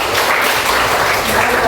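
A short burst of classroom applause, many hands clapping together in a dense, bright patter for under two seconds.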